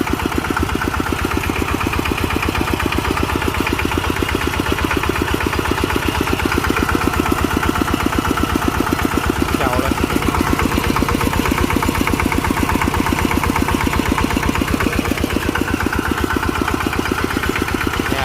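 An old Kubota walk-behind tractor's small single-cylinder engine idles steadily and close by, a continuous chugging putter with a fast, even knock throughout and no talking.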